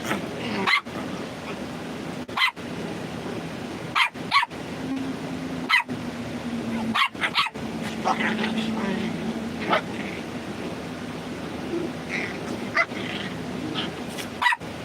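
Several dogs bark and yip in bursts across the stretch, close and loud, with whimpers between and a person talking intermittently underneath.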